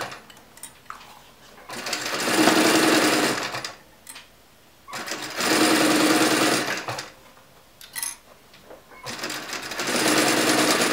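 A sewing machine stitches a seam on a round leather or faux-leather pouch in three loud bursts of rapid needle chatter, separated by quiet pauses.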